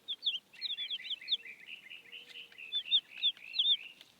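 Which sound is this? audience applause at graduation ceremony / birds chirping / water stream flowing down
birds chirping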